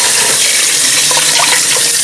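Meat neck bones are rinsed under a running kitchen tap, with a steady close hiss of water and faint splashes and clinks from handling in the sink.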